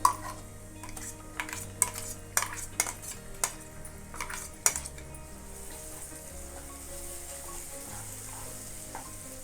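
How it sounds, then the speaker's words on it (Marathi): Ground masala paste sautéed in oil for a mixed-vegetable bhaji, with sharp clinks of a metal spoon against the pan early on, then a quieter steady sizzle. "हा मसाला तेलामध्ये दोन मिनटं चांगला परतून घ्यायचा आहे"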